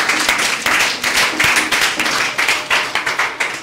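Church congregation clapping and applauding during a Sunday worship service, a dense, steady wash of many hands filling the room for several seconds with no talk.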